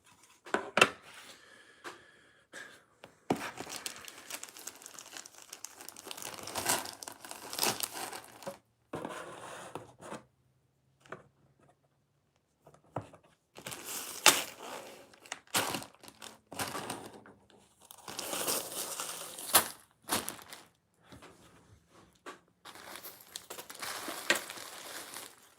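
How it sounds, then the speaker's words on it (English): Lego bricks click and rattle while being built into logo art, with irregular bursts of plastic clicks, pressing and shuffling close by, separated by short quiet gaps over a long stretch. "I think the clicking of studs can be satisfying"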